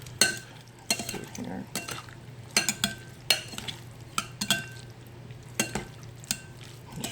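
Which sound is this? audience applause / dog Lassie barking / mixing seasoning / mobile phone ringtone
mixing seasoning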